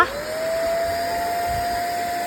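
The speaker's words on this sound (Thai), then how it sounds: "แค่เสียบปลั๊กแล้วก็กดปุ่มเลื่อนด้านบนนะคะ เครื่องดูดฝุ่นก็ทำงานแล้วค่ะ" A Deerma handheld vacuum cleaner runs steadily with a constant high motor whine and airy rush, close and loud, without speech.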